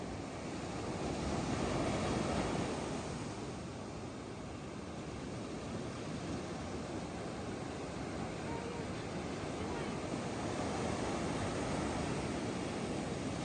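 Ocean surf and wind at Rialto Beach in Olympic make a steady, broad roar that washes on without pause, with wind buffeting the microphone and no voices.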